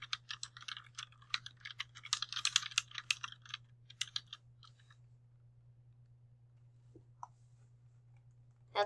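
Rapid keystrokes on a computer keyboard while entering text into a PowerPoint list, dense clicking bursts for about four seconds, then a few scattered taps, close and clear over a steady low hum.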